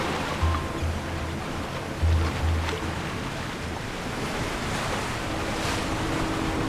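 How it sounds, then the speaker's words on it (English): Wind and ocean surf build together in a game scene near a port, with continuous rushing waves, gusty wind buffeting, and a few low thumps, loud and enveloping throughout with no voices. "The wind and waves are intensifying."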